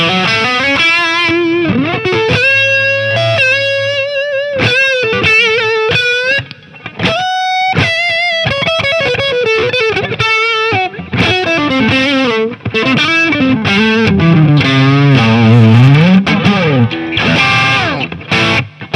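Heavily distorted electric guitar fed through a Neunaber Immerse reverb pedal with the gain raised, playing sustained chords and bent lead notes that bloom into lush, shimmering reverb tails; loud and continuous, with no voice.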